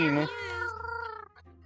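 A cat meows in the VRChat game, a drawn-out rising and falling cry that sounds close and fairly loud, followed by a brief softer tail with faint background noise.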